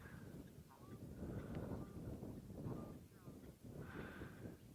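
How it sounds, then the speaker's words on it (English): Distant honking calls from South African shelducks, repeated a few times over a rough, noisy outdoor background with wind or water, at sunrise on safari at Tswalu. "You can hear that honking."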